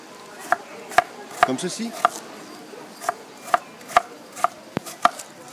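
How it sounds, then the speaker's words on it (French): A knife cuts apples into small quarters or dice on a board, striking in a steady series of crisp, close chops. A few quiet words of talk sit over the chopping. "je vais aller donc découper mes pommes, un petit quartier ou un petit dé"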